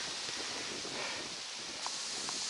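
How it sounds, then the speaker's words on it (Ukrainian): Steady broadband wind noise blowing across the microphone beside the Dnipro river, with faint rustling throughout and no voices. "Дивіться, який вітер піднявся."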